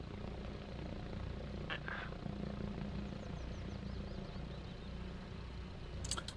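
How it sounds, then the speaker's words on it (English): A helicopter flying in ARMA Reforger gives a steady low rotor drone that holds fairly level from start to finish, with a few brief higher chirps over it. "Looks like a friendly heli."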